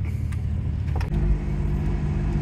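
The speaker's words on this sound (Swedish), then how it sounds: "Nu ska vi provköra, dra igenom alla växlarna" Car engine on a test drive through the gears, a steady low hum inside the cabin with a shift and slight rise in pitch partway through.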